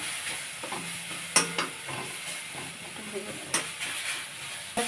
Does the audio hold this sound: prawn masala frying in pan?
yes